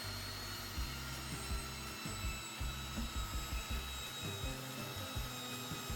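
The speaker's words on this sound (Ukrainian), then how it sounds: "ріжу її на шматочки і все це пропускаю через м'ясорубку" Steady mechanical whirring and grinding of a meat grinder mincing chunks of onion, constant and close, with small irregular crunching surges throughout and no talk.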